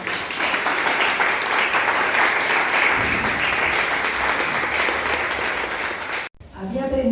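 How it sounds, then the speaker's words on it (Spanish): An audience at a lecture on the history of the short story in the Canary Islands applauds steadily for about six seconds, a sustained even clapping that cuts off abruptly, with a voice following briefly. "Un aplauso para él."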